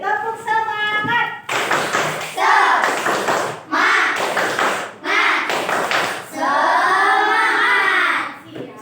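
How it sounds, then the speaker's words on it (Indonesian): Schoolchildren in an Indonesian classroom perform a rhythmic tepuk semangat clapping chant, bursts of sharp unison claps alternating with loud group chanting voices in a steady patterned beat, with a lone voice leading at the start. "Tepuk semangat lagi, tepuk semangat."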